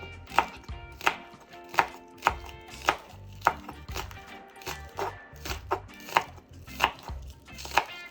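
Knife chopping scallions (green onion) on a cutting board for a garlic shrimp dish, about a dozen sharp, evenly spaced chops over a quiet kitchen background, with no talking.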